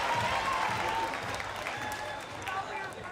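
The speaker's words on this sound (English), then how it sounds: "Give him a big round of applause." Steady audience applause fills the whole stretch, a dense wash of many hands clapping at an event session, loud and continuous, slightly fading toward the end.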